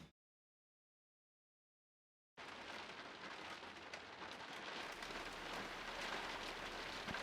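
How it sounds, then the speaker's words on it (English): Steady rain pours down outdoors at an off-grid site, a dense, constant hiss of drops on surfaces that starts abruptly after a silent stretch and continues close and loud to the end, with no voices. "very much raining, kind of snowing"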